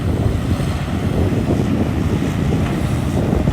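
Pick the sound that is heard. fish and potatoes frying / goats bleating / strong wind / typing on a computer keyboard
strong wind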